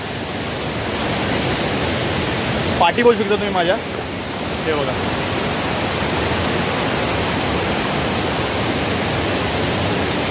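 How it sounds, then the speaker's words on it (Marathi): Forceful water rushing at a hidden waterfall by the Siddheshwar temple in Konkan, a loud steady broadband roar filling the whole clip, with a person briefly talking over it near the start. "पाणी खूप फोर्सने येत आहे."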